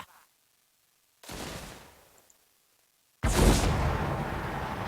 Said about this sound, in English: come and shoot this guy. Certainly! Gunnery mob.